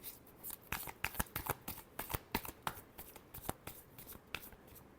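Tarot cards are shuffled by hand in a quick, irregular run of crisp riffling flicks and soft slaps, close and clear, with no talking over it.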